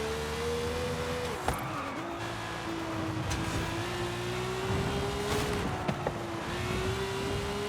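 A Ferrari Portofino rally car with all-wheel drive and rally tires races through Forza Horizon 5, its engine droning steadily with pitch shifts as it accelerates and shifts gears, plus occasional sharp knocks and tire noise, with no talking.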